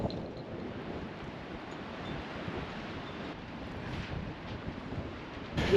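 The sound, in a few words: wind blowing on beach into microphone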